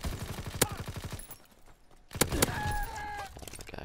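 Shotgun fire from an enemy in a video game comes as rapid, loud, repeated blasts in two bursts, with a short lull between them.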